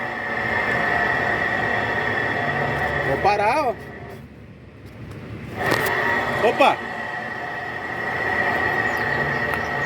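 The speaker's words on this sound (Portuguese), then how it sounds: "Tá roncando o rolamento, certo?" A humming wheel bearing on a moving car, a steady droning tone running under road noise that dips briefly mid-clip and then returns, with someone talking over it.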